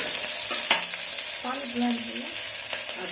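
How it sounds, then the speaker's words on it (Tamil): Onions sautéing in a cooker pan, giving a steady bright sizzle broken by a sharp clink and some short scraping strokes of stirring over about three seconds; no voices. "நல்லா வதக்கி விட்டுக்கிறேன்"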